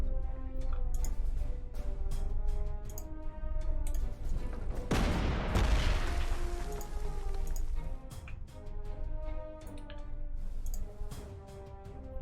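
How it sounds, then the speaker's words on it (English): Gunfire from a WWII strategy game set at the Battle of Lake Ladoga, 1942: an anti-tank gun and artillery fire in rapid repeated cracks over a steady tonal backdrop, with one heavy broadband blast near the middle. "That anti-tank gun is pretty dangerous."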